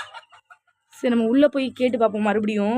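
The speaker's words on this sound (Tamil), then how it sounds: "ஏதோ கோழி சவுண்ட்லாம் கேட்டுக்கிட்டு இருக்குது" Chickens cluck near a building, with faint scattered clucks at first, then someone talks over further clucking.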